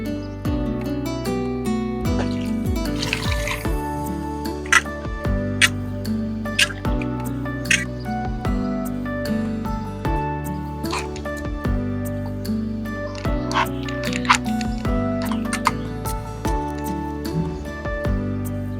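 An ash gourd is rinsed in water, with scattered drips, splashes and wet handling sounds over a faint steady background, close by.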